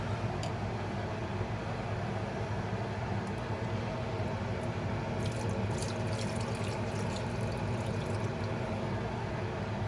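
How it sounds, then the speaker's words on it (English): A steady, soft stream of water pours continuously into a pot of red beans and sausage, quiet and unbroken throughout. "we're gonna add just a little bit more water."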